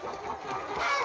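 Young hens with small combs cluck softly at a community chicken farm in South Korea, a brief close burst of a few rising calls.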